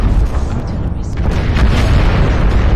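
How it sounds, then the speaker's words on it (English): Heavy enemy artillery strike in the MechWarrior Online video game, a sustained loud rumbling barrage of explosions filling the whole clip with no clear breaks. "That was the enemy calling an artillery strike on us."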